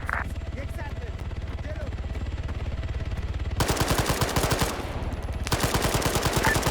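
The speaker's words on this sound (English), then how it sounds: "that's the sound of the helicopter engaging gun forces outside the base" Helicopter gunfire raking ground forces outside a base in a large multiplayer military game operation, heard as two loud sustained bursts of rapid automatic fire over a steady low rotor drone, with faint radio chatter beneath.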